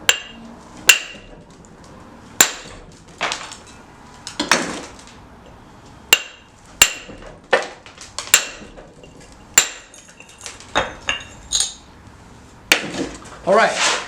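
A hammer strikes a steel pitching tool against rough stone in sharp, ringing blows, irregularly spaced and close, with chips of stone falling between some hits.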